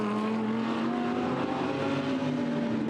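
A Mercedes GT race car, the number 88 on a Hungarian circuit in a Blancpain GT Series race, drones steadily with a strong sustained engine note throughout, loud and continuous, with no talk over it.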